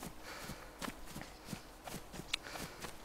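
A character's footsteps run in the video game DayZ Standalone, a quiet, steady patter of regular footfalls with no talk over them.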